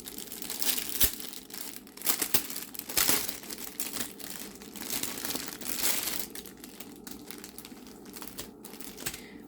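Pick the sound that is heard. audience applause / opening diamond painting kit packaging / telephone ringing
opening diamond painting kit packaging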